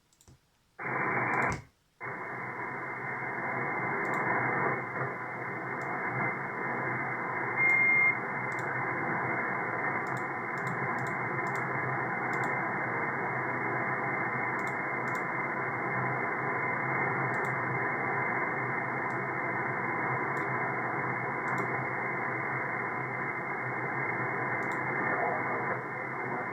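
Static hiss from a software-defined radio tuned across the amateur bands, a steady loud noise floor after a brief opening burst, with faint clicks and short tuning blips over it.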